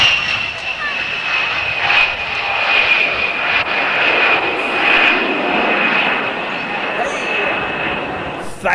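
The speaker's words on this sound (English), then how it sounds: "Ground attack aircraft" A ground attack aircraft flies past at a classic air show, its engine roar holding steady and fairly loud throughout with a whining tone on top, while someone talks over it.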